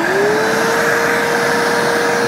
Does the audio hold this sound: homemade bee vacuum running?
yes